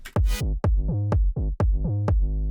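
Punchy tech house synth chord stabs, loud and close, pulsing in a syncopated groove with sharp attacks and short ducking decays over a deep low end.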